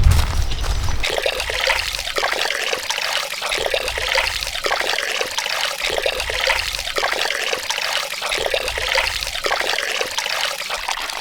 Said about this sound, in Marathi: चिकन पण धुवून घेऊ दोन तीन पाण्यामध्ये तांदूळ धुवून झाले तीन पाण्यामध्ये तर चिकन धुतोय